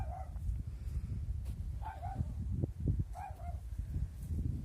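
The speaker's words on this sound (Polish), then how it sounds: "a nasz oczywiście na borsuka tutaj szczeka w budynku gospodarczym." A dog barks repeatedly inside a farm building, directed at a badger, with short harmonic barks recurring every second or so over a steady low rumble of background noise.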